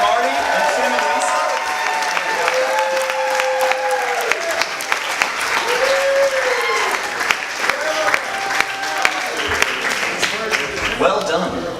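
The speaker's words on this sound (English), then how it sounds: "can we give a huge round of applause for the parents, please?" Wedding guests give the parents a big round of applause, loud sustained clapping mixed with cheers and whoops, with voices calling out over the crowd.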